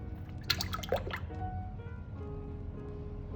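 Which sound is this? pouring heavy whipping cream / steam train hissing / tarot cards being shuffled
pouring heavy whipping cream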